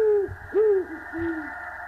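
Three owl hoots from a horror video game, clear close tones with a falling glide, sounding one after another over a low steady background hum.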